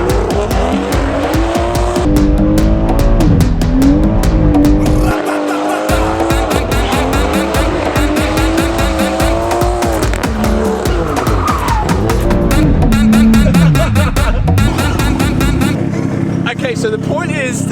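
A BMW M140i with a modified differential drifts, its tires squealing loudly and continuously over a revving engine that rises and falls, with speech partly heard over the noise.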